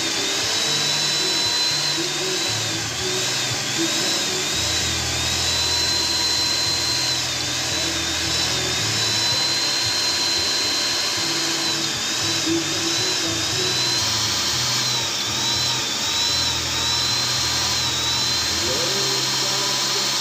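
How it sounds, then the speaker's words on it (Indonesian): Power drill boring holes into the middle section of a Hino Dutro X Power truck chassis, a steady high-pitched whine running continuously with slight wavering pitch over a low workshop rumble. "Untuk Hino Dutro X Power baru beberapa pengeboran pada bagian sasis tengah."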